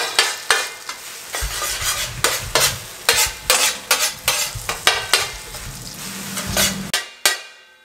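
An omelette mixture is stirred in hot ghee at a Pakistani street food stall. A spoon clacks and scrapes in a quick, repeated rhythm over a continuous sizzle, close and loud, and the sound cuts off near the end.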